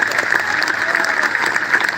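Audience clapping at an open-air poetry gathering on a middle school ground, brief dense applause that stays steady and loud from start to finish.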